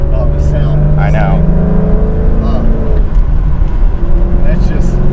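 A Maserati engine hums and drones steadily up close, its pitch shifting slightly, with people talking over it throughout.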